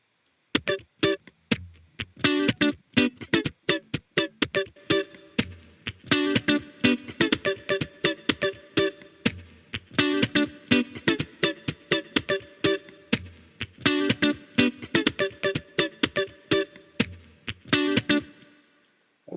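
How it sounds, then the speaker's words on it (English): Electric guitar with added reverb playing a choppy, rhythmic modern disco part, steady staccato strums with short gaps throughout, loud and alone without talk. "So let's listen to the guitar and add a little bit of"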